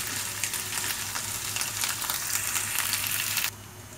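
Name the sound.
frying ginger garlic paste in pan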